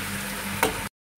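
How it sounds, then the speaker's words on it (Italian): Tripe and vegetables sizzling and frying in a pan as they are stirred, a steady close crackle with one brief louder scrape before it cuts to silence. "adesso diamo una bella mescolata, ecco, e si lascia cuocere un pochino"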